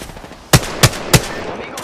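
Three sharp gunshots ring out in a video game firefight, spaced evenly about a third of a second apart over a low background hum, with one fainter shot trailing at the end.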